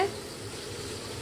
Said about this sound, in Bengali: তো একটুখানি ফুটে এসছে যে আমি মাছগুলো দিয়ে দিচ্ছি।